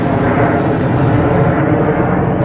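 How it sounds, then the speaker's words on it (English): An airplane flies over near the airport outside Pittsburgh by a trout stream, a loud, steady engine roar that fills the whole moment without any speech. "we got planes flying up. We're out by the airport in Pittsburgh."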